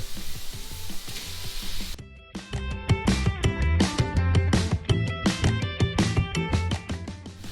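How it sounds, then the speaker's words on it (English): Shrimp with shells on sizzling in a hot pan for fried saimin, a loud spitting fry that starts partway through and keeps crackling with stirring scrapes. "And now we're gonna add in our shrimp."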